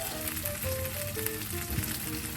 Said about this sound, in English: Now you want to add more oil and the remainder of your rice.